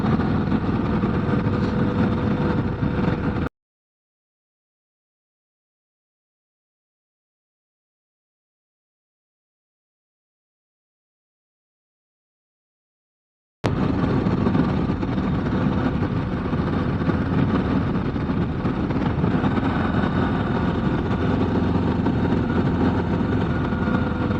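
A 2025 Harley-Davidson Low Rider ST motorcycle engine runs steadily while riding, a loud continuous rumble that drops out completely for about ten seconds mid-clip before resuming.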